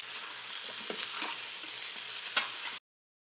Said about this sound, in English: With all the spices are getting cooked, we put in our goat meat.